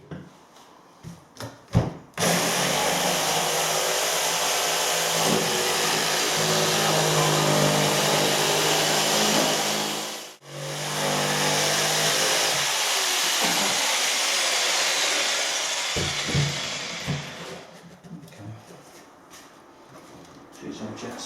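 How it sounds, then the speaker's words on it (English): Jigsaw cutting back a timber floorboard during a floor repair, a loud, close, continuous buzzing saw that stops briefly midway and then resumes before trailing off into scattered knocks. "Using a jigsaw to cut that bit back."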